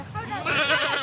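Goats bleat in overlapping calls at close range on a snowy, icy farm, with a voice chanting to them and sounding over the animals.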